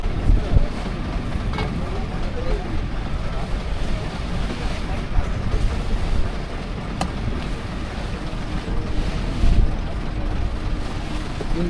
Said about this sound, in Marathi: इंजिनचं साऊंड टाकू बॅकग्राऊंडला